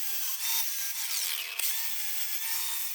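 A power tool grinds a V bevel into an aluminum edge ahead of MIG welding, a continuous high whining, rasping cut that holds steady with a slight dip and a brief knock midway.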